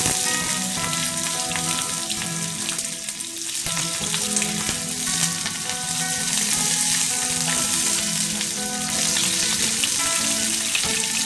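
Sliced onions and a little whole garam masala fry in hot oil for a home-made biryani, giving a loud, steady sizzle and crackle that holds unbroken throughout, with no voices.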